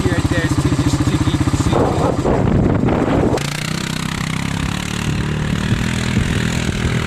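A 300cc quad ATV engine chugs in sticky mud, its loud pulsing idle giving way to a strained, bogged-down drone under a speaking voice.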